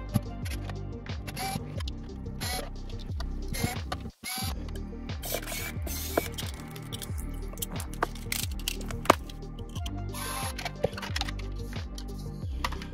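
Whirring power screwdriver backing screws out of a plastic VHS tape casing, running in rapid ticking pulses with brief stops, close up and steady with no talk over it.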